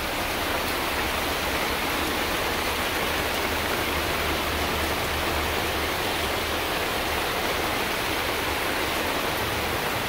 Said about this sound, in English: Raining in the rainforest.